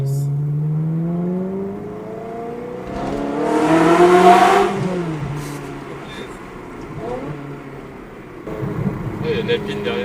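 A Ferrari engine revs and echoes inside a tunnel, the pitch climbing in a loud swelling surge that peaks and then fades into a lower drone, with people talking in the car over it.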